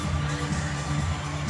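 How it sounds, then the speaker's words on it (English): A home crowd at John Cain Arena roars during a Mavericks netball match, a dense sustained wall of cheering with no break across the short moment. "Their home crowd here at John Cain Arena"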